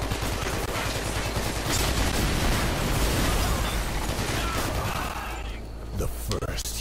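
Relentless gunfire from the shooter game Hatred, a dense, continuous barrage of shots and blasts that stays loud throughout and thins out only slightly near the end.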